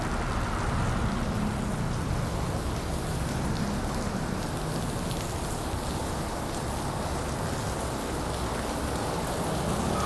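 Heavy rain pours down steadily during a flood on Lat Krabang–Luang Phaeng road in Bangkok, a loud, dense, unbroken hiss of drops that fills the whole stretch with no voices.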